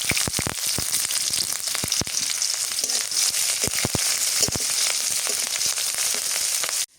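Green chilies and onion fry in hot oil in a village kitchen, a loud, steady sizzle peppered with frequent crackling pops and stirring, ending abruptly, with no voices.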